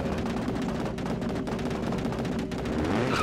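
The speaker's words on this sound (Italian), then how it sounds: "è proprio il rumore della marmitta" Rapid crackling pops fire continuously over a roaring engine, exhaust backfires from a rally car in the video game DiRT 4, loud and dense throughout.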